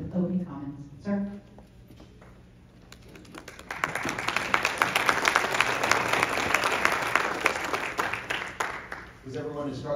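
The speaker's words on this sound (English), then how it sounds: "Was everyone instructed to clap?" Audience applause at a community town hall, a broad wash of clapping that swells after a few seconds of quieter room noise and continues steadily, with speech heard before and after.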